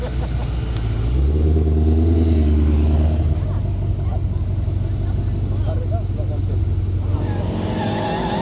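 A twin-turbo Shelby GT500 roars at full throttle on a half-mile airstrip run at Shift S3ctor Indiana, a loud, sustained engine drone that climbs steadily in pitch and stays close throughout.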